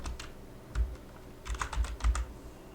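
Quiet, close computer keyboard typing while writing code, a few scattered keystrokes followed by a quick cluster of clicks.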